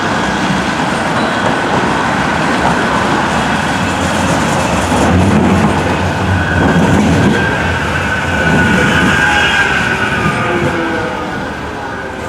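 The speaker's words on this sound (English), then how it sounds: "I'm going to catch the tram now straight through to Eccles." Tram riding toward Eccles on a Manchester line, with a steady loud rumble of wheels on rail and rolling rattle that swells and eases slightly throughout, no talk.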